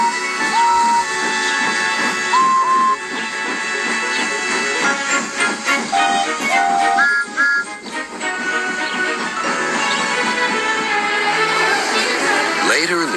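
Steam engines puffing away in a cavalcade toward the big city, a loud continuous hissing chug with short whistle toots, layered under music.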